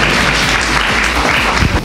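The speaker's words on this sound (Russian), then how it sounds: "Под ваши аплодисменты" A hall audience applauds for a woman named Elena at a Russian school project meeting, a steady dense wash of clapping lasting the whole moment with no voices over it.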